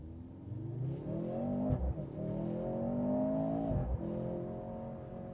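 A 2024 Mercedes-AMG C43 pulls away from a standstill, its engine note climbing through a rising rev, dipping briefly at a shift, then rising again, heard from inside the car at moderate volume.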